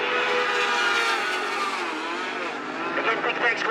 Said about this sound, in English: again that beautiful sound of that Ducati V-Twin